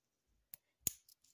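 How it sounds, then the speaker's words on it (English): Small scissors on a compact EDC keychain multi-tool snap shut in two crisp, close metallic clicks, a short pause between them, followed by faint handling taps. "It has scissors"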